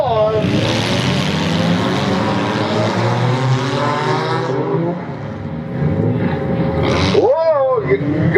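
Demolition derby cars starting off together in a loud, sustained engine roar, close and continuous with revving swells, as an announcer talks over it.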